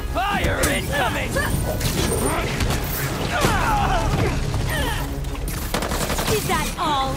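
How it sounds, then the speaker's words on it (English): Rapid bursts of gunfire and explosive blasts fill a battle in Marvel's Spider-Man 2, loud and continuous, with characters shouting over the shooting throughout. "Fire incoming!"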